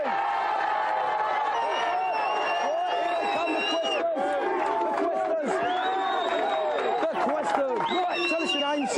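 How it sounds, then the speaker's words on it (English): A studio audience at a 1993 televised video game championship cheers and whoops loudly in a sustained burst, with a few voices rising above the crowd. "give them a big cheer"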